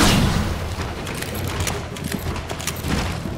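Rapid gunfire and booming shots in the Shadow Warrior 2 video game, a dense continuous barrage of bursts filling the whole stretch at steady loudness, with no talk over it.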